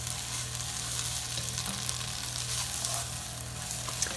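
Chicken stew with tomato paste frying in a pan while being stirred, a steady close sizzle with faint scraping running evenly throughout without talk.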